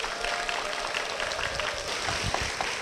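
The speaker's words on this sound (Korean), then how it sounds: "김공순 권사님 박수로 모시겠습니다." Soft, even applause from a church audience welcoming a guest to the front, fairly distant and continuous, with faint low voices under it.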